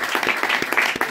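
Brief burst of audience applause in a comedy show hall, scattered claps from a crowd, moderately loud and filling the whole short moment.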